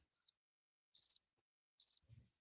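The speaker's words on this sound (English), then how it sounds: "Here you go, the Crickets." Crickets chirp in three short, evenly spaced bursts, a thin high trilling against silence, used as a sound effect to mark an awkward lack of response, with a faint low thump at the end.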